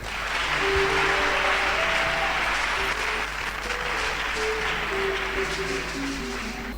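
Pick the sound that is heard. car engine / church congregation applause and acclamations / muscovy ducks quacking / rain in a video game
church congregation applause and acclamations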